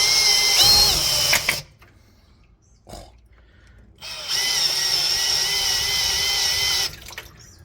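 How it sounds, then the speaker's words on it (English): A power drill spins in reverse to prime a Ford oil pump: one short whining burst, a pause filled with faint knocks, then a longer steady high whir that cuts off sharply. "with the Ford oil pumps, you got to put the drill in reverse to make it pump"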